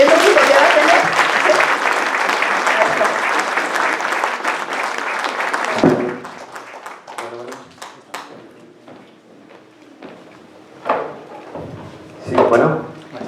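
An audience at a university lecture on the electoral process in Mexico breaks into dense, loud applause for about six seconds, then the clapping stops abruptly and scattered taps and knocks follow.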